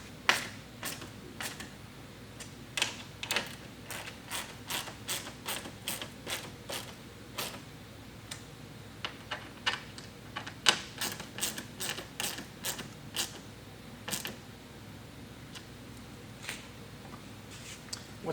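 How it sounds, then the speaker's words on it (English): A 4mm Allen key tightening the splash guard mount plates on a 2022+ Toyota GR86, a run of quick dry clicks and ratcheting ticks in irregular bursts, close and fairly quiet with no voices. "now we'll take our 4mm Allen key and fully tighten all three of these mount plates down"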